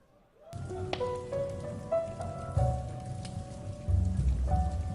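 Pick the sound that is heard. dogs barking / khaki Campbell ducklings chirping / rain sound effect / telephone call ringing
rain sound effect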